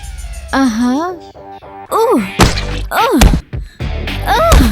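A boxing bag takes a few heavy punches that land as dull thuds, spaced apart among lively, expressive voices.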